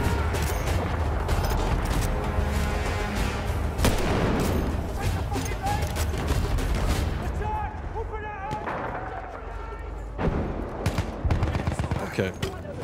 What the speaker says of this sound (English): let's make some moves while the explosion is going off